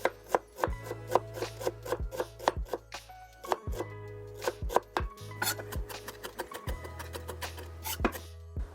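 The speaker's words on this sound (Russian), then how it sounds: "Мелко режу красный лук." A knife taps rapidly and steadily against a cutting board, finely chopping red onion with a crisp, uneven rhythm, close and fairly quiet.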